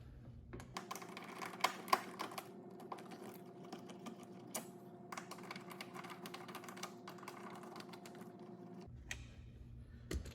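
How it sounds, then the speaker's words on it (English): Phillips head screws being worked out of the third brake light on a Chevy Tahoe with the hatch open: faint, quick ratcheting clicks and tapping, with a low hum beneath. "So we need to take out these two Phillips head screws,"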